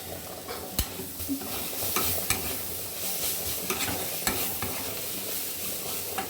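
Leafy greens with crushed peanuts stir-fry in a pan, with a constant sizzle broken by repeated sharp scrapes and clatters of the spatula at an uneven rhythm.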